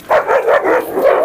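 Dogs in a pack that includes a large Kangal fight and bark loudly and close by, with a rapid run of sharp barks and yips and no talking.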